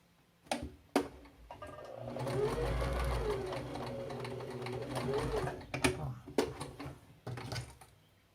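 A sewing machine back-stitching a reinforcement runs in a steady whirring stretch of a few seconds, then gives short stop-and-start bursts with clicks, close by, with a voice speaking over part of it.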